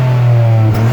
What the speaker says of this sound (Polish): 3-cylindrowa Puma ST strzela warczy i pierdzi